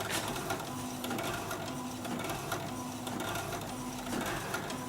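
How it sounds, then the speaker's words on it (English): An old printer whirs and chatters in repeating mechanical passes, steady rhythmic grinding close by, with paper feeding through. "Seems to be printing, and it's also able to pull the paper from the tray"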